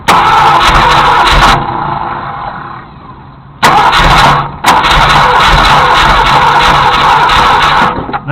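Ford Galaxie 390 V8 with a four-barrel carburetor, freshly freed from a seized state, cranks and catches, roars loudly, dips briefly, then fires again into a steady rough run close by.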